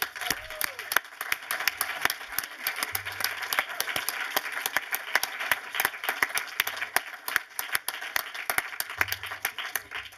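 An audience applauds Til Schweiger at a live film talk event, with steady, dense clapping throughout at moderate distance.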